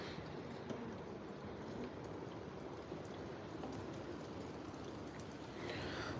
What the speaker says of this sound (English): It's raining pretty hard outside right now.